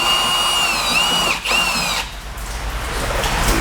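Power drill backing screws out of a 2015-or-later Mustang door, a close, loud whining motor whose pitch bends and dips briefly before settling into a rougher, steady drone, with no talking.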